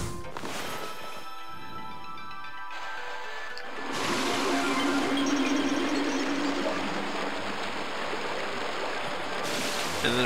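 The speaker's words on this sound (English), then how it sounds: "You can see we can use water spout over here too." In the video game Okami HD, a water spout rushes and splashes loudly and steadily, swelling into a broad continuous gush after a quieter start.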